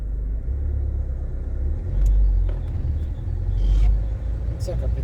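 Classic car rolling over a potholed, broken road, with a constant low engine rumble and road noise inside the cabin and a few heavier thumps as the wheels drop into holes.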